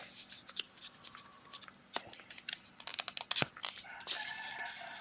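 A coin being cut in half while making a coin ring, a quick run of sharp snips and clicks with crisp metallic scraping, close and irregular, each sound brief and separated by short pauses.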